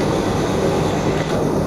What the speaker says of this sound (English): There goes my train.